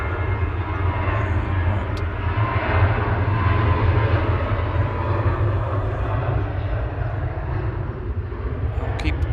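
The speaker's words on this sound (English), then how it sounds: "Ryanair 1800 departing to Turin in the background" A Ryanair jet departing Manchester Airport, a loud continuous engine roar with steady low rumble holding across the whole stretch, heard alone without talk.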